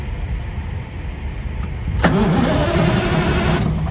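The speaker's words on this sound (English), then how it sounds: "So, tried to crank the bus this morning." A diesel bus engine cranking without catching: a brief click, then a steady rhythmic starter churn running for nearly two seconds, close and fairly loud, no voices.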